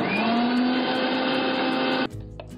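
A kitchen mixer grinder jar blends large onion pieces into paste with a loud, steady, high-pitched motor whir that cuts off abruptly near the end, leaving quiet room tone.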